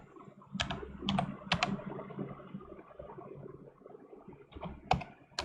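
Keys tapped on a computer keyboard in short quick bursts, entering a password, close and fairly quiet with a soft room hum beneath.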